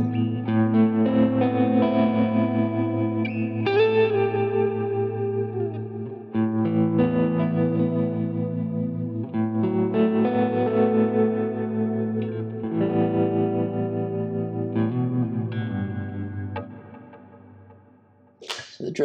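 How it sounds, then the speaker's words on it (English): A clean ambient guitar preset on a Quad Cortex rings out in sustained chords, thick with delay repeats and tremolo pulsing, warm and alone before fading into a trailing tail. "Clean ambient, puts in those delays."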